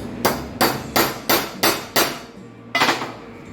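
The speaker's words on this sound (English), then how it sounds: "gently use the beater stick" A beater stick hammers a flush nut into metal in a workshop: six sharp, ringing blows, five in a quick even rhythm and one after a short pause, loud and close.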